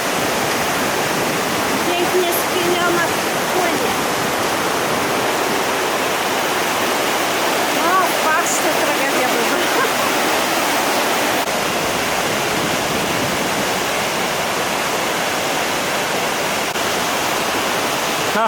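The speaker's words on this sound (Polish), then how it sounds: "a dołem ta piękna rzeka nam szumi" A river in a Norwegian glacier valley rushes continuously and loudly nearby, a dense, steady roar of flowing water with no pauses.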